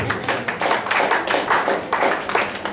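A church congregation claps steadily during a prophetic service, a dense, close, rhythmic run of many hands with no voices heard.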